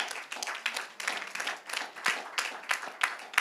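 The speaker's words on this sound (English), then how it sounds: "Please give him another round of applause." Audience applause at a Bahamas real estate event: a small crowd claps in a steady, uneven patter of sharp hand claps that fills the moment without speech.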